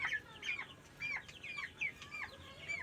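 Many 20-day-old broiler chickens cluck and chirp softly in overlapping bursts, a busy flock heard at moderate distance against a quiet background.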